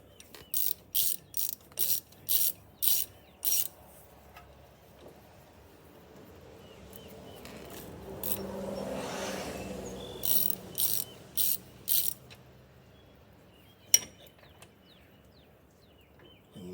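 Close ratchet clicks in quick rhythmic strokes tightening a front brake caliper bolt on a Jeep Compass, a run of six, a quieter gap with faint rustling, then four more strokes and a sharp single knock, no talking.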